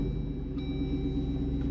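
A Jeep Wrangler 392 V8 engine rumbles steadily up close, a deep, continuous low idle with no voices over it.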